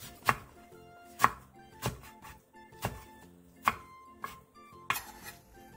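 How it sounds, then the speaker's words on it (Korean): A knife chops through a handful of washed aged kimchi on a board, giving seven or eight sharp, evenly spaced thuds at close range with nothing else around them. "씻은 묵은지 한 줌을 3cm 정도 길이로 잘라주세요"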